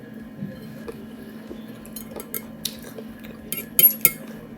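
A pan of meat marinated in sugar-free orange ginger marinade is handled in a kitchen, light clinks of metal and cookware, with sharper clanks near the end as it goes into the oven.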